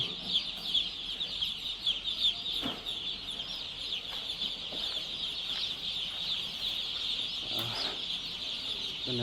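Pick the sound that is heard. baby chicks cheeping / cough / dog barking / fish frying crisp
baby chicks cheeping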